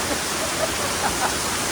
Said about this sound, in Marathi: या धबधब्याखाली आमची मजा चालू आहे